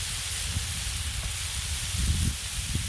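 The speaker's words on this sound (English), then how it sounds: "Sizzling some bacon." Bacon sizzling steadily on a hot Blackstone griddle, a constant crackling hiss with soft pops and low bubbling, close by and without talk.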